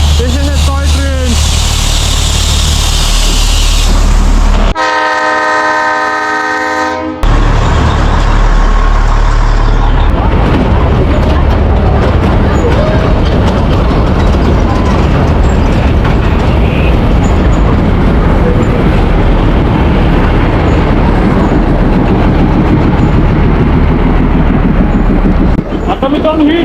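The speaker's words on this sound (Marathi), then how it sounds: "Matheran toy train." The Matheran hill station toy train rumbles along loudly and continuously with a steady mechanical roar, briefly interrupted by a buzzy electronic tone before the running noise resumes.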